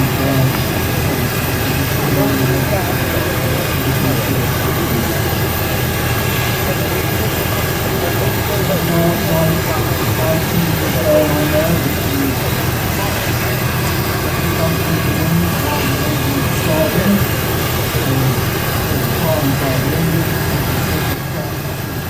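Avro Vulcan XL426 jet engines during a taxi run: a loud, steady, dense roar that holds unbroken for the whole stretch, with no clear talk on top.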